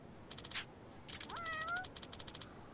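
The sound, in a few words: cat meowing in the video game Judgment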